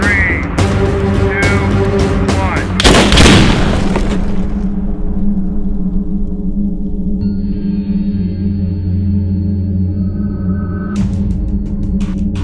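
A .50 caliber rifle shot sets off an acetylene tank, producing one loud, broad blast with a rumbling tail. Steady tonal sounds continue underneath before and after it.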